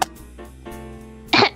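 A burst of coughing from someone with a cold, heard close up at the end of a podcast-style news show, loud and brief after a quiet stretch.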